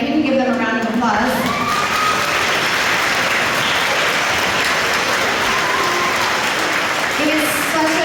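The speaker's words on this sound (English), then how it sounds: "If we can give them a round of applause" Applause and cheering break out in a school auditorium for a visiting community band, a loud, sustained crowd roar of clapping with children's shouts mixed in, steady for several seconds.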